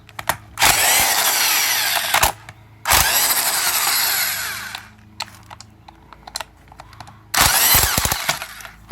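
Power tool with a 15 mm socket spinning out a bolt on a GM Chevy NP246 transfer case, three loud whirring bursts separated by clicks and pauses, close up with no talking.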